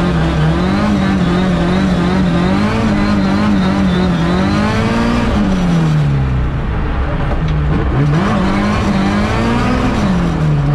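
A Lada's engine revs hard and wavers up and down in pitch, loud and close, as the car slides through a drift on ice.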